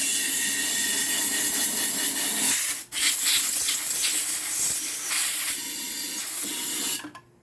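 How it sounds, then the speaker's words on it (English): Compressed air hisses loudly and steadily while blowing out the tank and carburetor of a Bolens 21-inch lawnmower with a 4.5 Briggs and Stratton engine, with a brief break near three seconds before it cuts off at the end. "we're going to take air and we're going to blow all this, the tank and everything, out with air"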